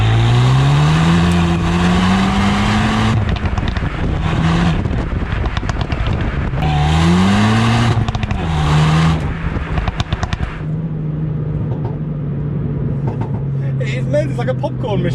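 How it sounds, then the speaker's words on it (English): A Renault Megane R.S. Trophy R with an Akrapovic exhaust revs up and down, and sharp crackling pops and bangs burst out as the throttle lifts, close and loud, under someone talking. "you hear all those noises in the Akrapovic exhaust"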